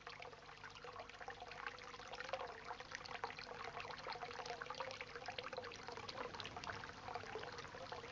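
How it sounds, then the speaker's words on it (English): Spring water runs constantly through a farm milk shed with a soft, steady trickle and splash, faint and continuous over a low hum, with no talk. "that constantly running water from that"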